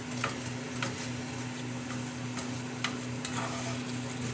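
Crumbled tofu for a tofu scramble being broken up and stirred in a pan, soft faint scraping and tapping under a steady low sizzle, with a few light knocks of the utensil against the pan.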